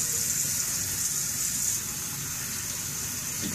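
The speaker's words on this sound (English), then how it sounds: "Turn your water on hot." Hot water running from a bathroom tap while shaving, a steady close hiss of flowing water that eases slightly partway through, alone with no talking.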